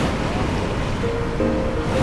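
Ocean surf rolls in a continuous, loud wash of breaking waves, with a roaring wind-like rumble throughout and a faint voice murmuring underneath.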